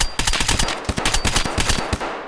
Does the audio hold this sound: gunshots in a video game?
yes